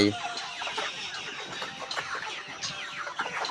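Young laying hens clucking in a poultry house, soft overlapping clucks and murmurs from several birds, fairly close and steady.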